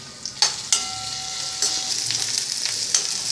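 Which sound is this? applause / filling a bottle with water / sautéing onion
sautéing onion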